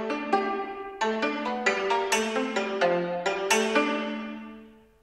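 A sampled cimbalom from a Kontakt library, played with the pedal up, picks out a quick run of separate hammered notes in an uneven rhythm, each bright strike fading faster, with no talking.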